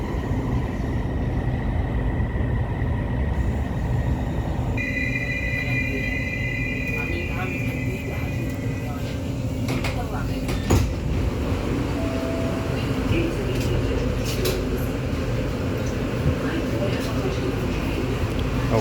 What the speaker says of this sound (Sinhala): මෙට්‍රෝ එකේ ගියා.